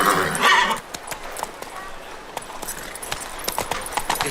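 A horse's hooves clop along at a trot in the Witcher 3 Wild Hunt video game, a run of light close hoofbeats after a brief spoken word at the start.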